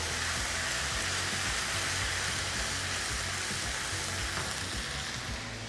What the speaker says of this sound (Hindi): गार्लिक का जो भुना फ्लेवर है उसके साथ साथ जिंजर गार्लिक पेस्ट को भी भून लिया जाएगा